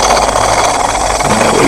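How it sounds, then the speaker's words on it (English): A safety valve lifts on a live steam impulse turbine, giving a loud, steady, broadband hiss of escaping steam over mechanical rumble. "that's the safety valve just lifting"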